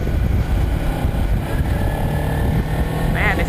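A Kawasaki Ninja 300 motorcycle on a test ride, a steady low engine drone mixed with wind rush, heard continuously from the rider's position without clear gear changes.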